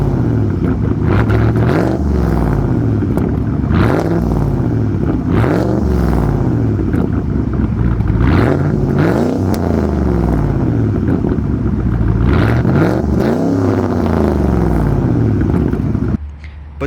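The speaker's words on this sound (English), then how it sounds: "I'll get a few small baby revs in for you guys here in a bit." A cammed, lowered Ford Lobo truck engine revs repeatedly from a loud, lumpy idle, each blip rising and falling in a series of rhythmic swells, close and powerful, before cutting off abruptly near the end.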